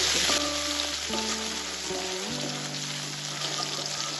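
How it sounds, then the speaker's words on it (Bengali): Tomato and onion frying in oil, a steady broadband sizzle with some stirring, with no talk and no other sounds in the pan. "টমেটো এবং পেঁয়াজটা তেলের সাথে ভালোভাবে ভাজা হয়ে গেছে।"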